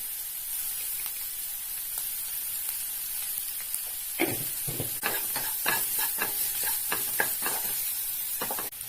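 Chopped onion sautés with salt in a pan for a potato curd curry, a soft hiss underneath and then a run of spoon scrapes and stirring taps partway through.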